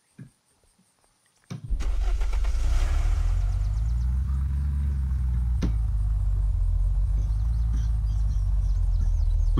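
A car in the video game Unturned starts up after a brief silence, then runs with a loud, steady low engine rumble that swells and settles as it drives on.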